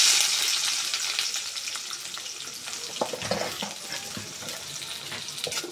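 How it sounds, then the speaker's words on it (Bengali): Onion and green chillies frying in hot oil in a wok for a fish curry, a steady close sizzle with occasional stirring clinks, no talking. "পেঁয়াজটা আমি নরম নরম করে একটু ভেজে নিলাম"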